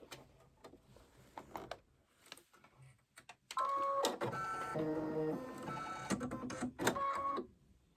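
An embroidery machine stitching an Easter bunny appliqué in white thread around the small paws, with faint clicks and handling noises giving way to a loud, fast, rhythmic mechanical whirring and tapping for about four seconds before stopping.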